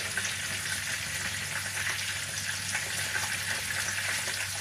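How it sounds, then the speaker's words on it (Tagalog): Pampano fish fries in a pan with oil, a continuous close crackling sizzle that holds steady and even, with a faint low hum underneath. "Habang piniprito ko siya, kasi mabilis lang naman yung maprito"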